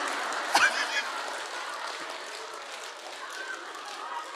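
A listening audience applauds during a Buddhist teaching, a soft, even patter of clapping with a brief louder knock near the start.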